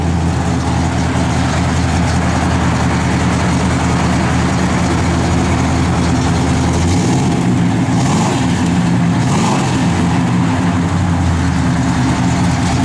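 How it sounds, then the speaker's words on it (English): A 1966 Oldsmobile Cutlass V8 runs with a steady, loud low rumble and audible cam lope, then settles into a lower idle partway through; no talking over it. "Got great sound. You hear that cam working now."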